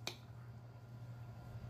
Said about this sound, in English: I didn't snap my fingers in